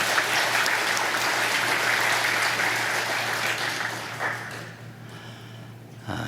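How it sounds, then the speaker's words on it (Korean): A church congregation applauds the Agape choir after a Sunday service anthem. The clapping is steady and full at first, then thins and fades away over the last couple of seconds. "우리 아가페 찬양대원들 박수 한번 보내주시기 바랍니다"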